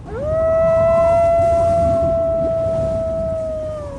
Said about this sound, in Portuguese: É o chamado do lobo, e quem o ouve sabe que algo está prestes a acontecer.